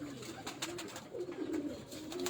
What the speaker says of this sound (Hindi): काफ़ी टाइम के बाद मुझे वो कबूतर देखने को मिल रहे हैं